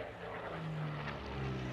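A propeller aerobatic airplane, the American Dream, drones steadily overhead as it rolls at the Sun 'n Fun airshow, a distant continuous engine hum with slight swells.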